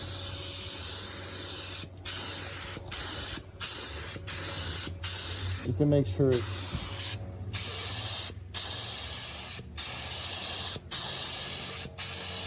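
Repeated bursts of a spray gun hissing as it sprays lacquer clear coat onto a 1979 Gottlieb pinball playfield, several short sprays separated by brief pauses, with a faint voice speaking briefly in the middle.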